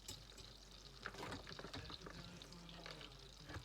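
Butter sizzles and crackles steadily in a hot pan, close and continuous, with a few light clinks of a utensil.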